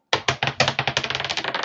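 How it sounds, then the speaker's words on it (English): Dice bouncing and rattling on a tabletop during a live sports card break, a rapid run of close, loud clacks that start sharp and spaced, then quicken into a dense rattle as they settle. "Bouncy dice."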